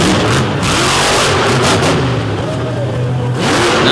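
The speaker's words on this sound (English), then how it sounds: "our final set of trucks, I should say, will get ready to come out one at a time" Monster truck engines rev loudly and continuously in a big arena at a monster truck show, a steady near roar with rising pitch swells as the trucks get ready, with a faint voice underneath.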